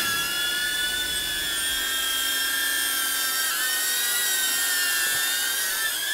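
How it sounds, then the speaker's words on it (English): A DJI Avata drone's motors spin up into a steady, high-pitched electric whine that holds loud and close, with a brief pitch dip midway through the takeoff. "Motor starting and press and hold to take off."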